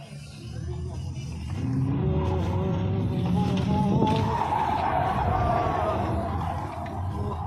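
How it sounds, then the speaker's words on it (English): An Audi e-tron GT electric sports car doing donuts at an underground car meet, with a sustained loud tire squeal and skidding that swells and holds as it circles, over crowd noise. "E-tron GT doing some donuts out there."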